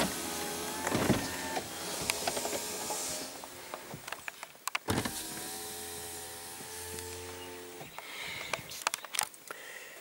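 Power windows on a 2006 Ford Focus Zetec whir up and down in several separate runs, each a steady motor hum ending in a soft thunk, fairly close, with no talk.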